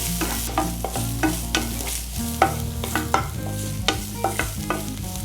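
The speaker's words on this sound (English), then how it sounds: "You fry this, add all the 3 sauces little, and then once it should fry" Paneer manchurian frying in a pan with added sauces, a close, steady sizzle under repeated scraping stirs of a spoon against the pan, with no talk.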